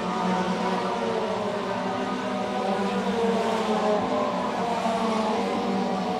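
Race car engine droning steadily through a 60-lap feature race at Wiscasset, a continuous loud roar with shifting pitch and no voices over it.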